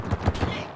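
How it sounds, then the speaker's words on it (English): Explosions going off in the mining sandbox video game Core Keeper, a quick series of three low, thumping bursts close together, with faint talk in the background. "You never know how far those explosions are going to go."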